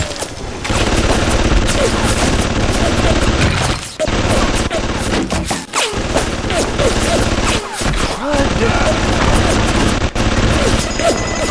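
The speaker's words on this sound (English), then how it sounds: "I hate that my turrets are destroying each other." Hacked turrets in Bioshock firing at each other, dense rapid machine-gun bursts almost nonstop with brief gaps, loud and close amid game noise.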